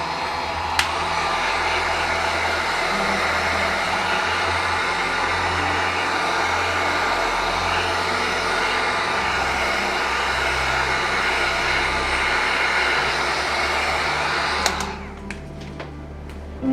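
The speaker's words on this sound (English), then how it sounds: "I'm going to hit this with a heat gun, see if I can get any cells going on." Heat gun blowing over an acrylic pour painting, a loud, steady close-up whoosh of hot air with a motor whine that runs continuously before cutting off abruptly near the end.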